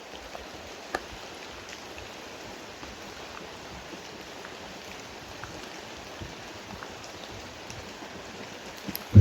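Heavy rain falls outdoors at dusk, a steady dense hiss of drops that stays even throughout, with a sudden loud knock at the very end.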